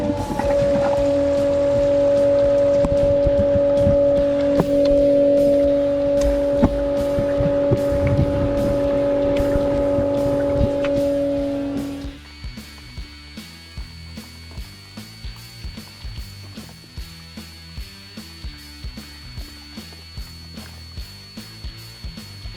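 A boat ballast pump runs steadily, filling ballast with a loud motor whine and tonal hum, then cuts off partway through. A quieter background with regular faint knocks follows.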